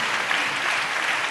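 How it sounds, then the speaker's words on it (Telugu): A church congregation claps together during a sermon, a brief, even burst of many hands heard from some distance. "చప్పట్లు కొడితే యేసయ్యకు స్తోత్రాలు చెప్దాం."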